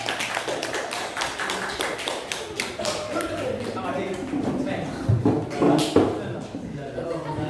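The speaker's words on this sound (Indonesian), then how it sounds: "Beri tepuk tangan dong kalau kelas cantik" Students in a classroom clap steadily, a dense run of sharp overlapping hand claps that swells near the end, with voices mixed underneath.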